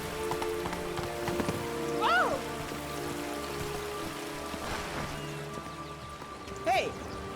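A horse in The Witcher trots along with a steady hoof clip-clop under rain-like patter, and a couple of short whinnying calls rise over the hoofbeats.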